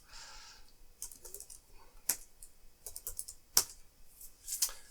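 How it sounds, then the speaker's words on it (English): Keys clatter on an Apple IIgs computer keyboard as a command is typed, a run of light, irregular clicks with a few sharper, louder strikes, fairly close and with no voices. "let me type the right command"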